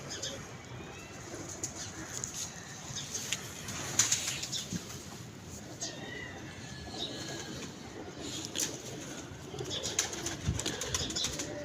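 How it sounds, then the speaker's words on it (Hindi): Pigeons flap their wings in repeated bursts, with soft coos around them, at a loft where birds are kept and flown, against steady outdoor background noise. "बील भाई लाओ ज़रा कबूतर का शौक करो"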